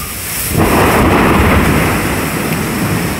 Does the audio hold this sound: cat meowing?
no